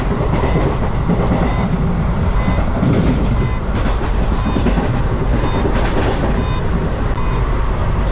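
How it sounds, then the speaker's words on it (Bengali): Passenger train running steadily at normal speed on a special Independence Day service to Digha, a loud continuous rumble and rattle of the carriages on the rails with a repeating rhythmic clatter and no talk. "ট্রেন মোটামুটি ঠিকঠাক স্পিডেই চলছে।"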